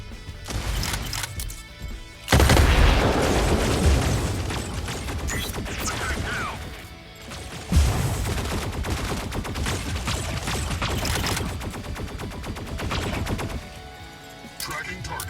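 Rapid gunfire and blasts in a control-points clash match of a shooter video game, dense and loud throughout with sharp bursts, under an intermittent announcer voice.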